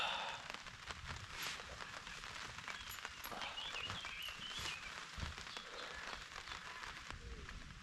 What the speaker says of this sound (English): The sound of the rain is really, really relaxing as well.